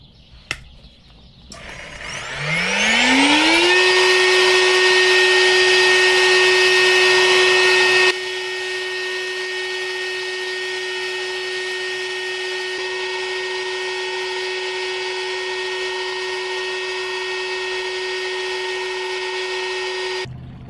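A GardenJoy 40V cordless leaf blower spins up from quiet to a loud, steady high-pitched whine with rushing air. It holds at full power, then drops slightly to a lower but still continuous level.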